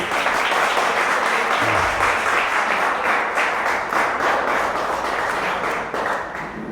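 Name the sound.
audience applause at a youth retreat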